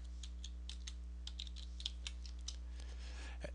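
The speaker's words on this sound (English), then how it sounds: "So I'm going to go ahead and type my password in." Password being typed on a computer keyboard: a steady run of close, crisp key clicks with irregular rhythm over a low electrical hum, no talking.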